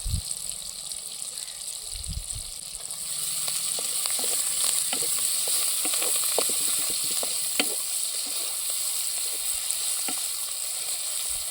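Onion pieces and curry leaves frying in oil for a prawn curry, a dense, even hiss of sizzling that swells after a few seconds, with scattered light pops and clicks, close and steady with no speech.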